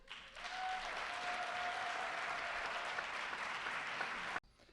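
Sustained loud applause from an audience at an award ceremony, filling the room evenly for several seconds before cutting off abruptly.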